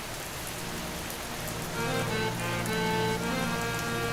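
Monsoon rain falls steadily outdoors, a dense continuous patter that swells slightly louder midway, with faint tonal hum running underneath.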